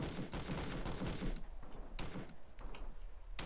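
Gunfire in the military video game Arma 3 crackles in rapid bursts and scattered single shots, a dense volley at first that thins into spaced, loud reports.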